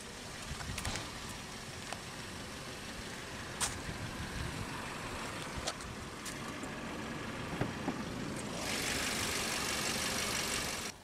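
A 2018 Volkswagen Beetle S convertible with a 2-liter TSI turbocharged inline-four idles steadily, a low continuous engine rumble with a few sharp clicks and a brief rise in hiss near the end.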